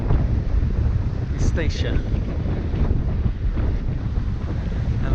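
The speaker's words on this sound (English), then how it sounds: "the wind has just come back on our beam again" Wind roars steadily across the microphone on a Hallberg-Rassy 54 sailing yacht at sea off St. Eustatius, with wash of water beneath and a brief voice cutting through.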